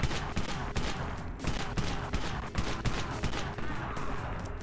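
Rapid bursts of gunfire in the zombie shooter game Dead Frontier, loud, dense volleys of shots crackling one after another with almost no pause, with players talking faintly underneath.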